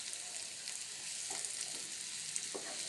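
Sliced mushrooms sizzle steadily in a hot pan for a curry, a soft continuous frying hiss with a few faint stirring knocks, fairly quiet and close.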